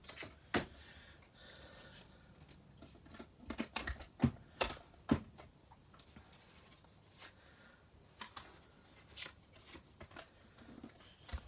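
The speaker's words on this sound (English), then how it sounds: "now we're die cutting, so I'll get my machine out" Scattered light clicks, taps and plastic knocks as a die cutting machine is set up for card making, quiet and irregular with no talking.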